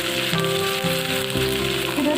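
Sliced shallots, green chilies and curry leaves hit hot oil with fenugreek for a Palakkad-style tamarind curry, giving a close, loud, crackling sizzle with brief pops as they are stirred.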